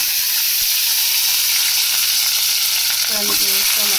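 Chopped potatoes and onions hit hot oil at once and sizzle loudly in a steady, dense crackle, with a few scraping stirs near the end; no voices.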